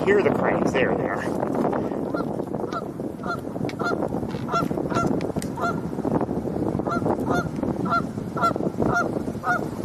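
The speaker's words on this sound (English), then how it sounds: "I hear the cranes, there they are." Cranes in a wetland call with repeated loud, honking cries, several birds overlapping in a busy chorus, steady throughout.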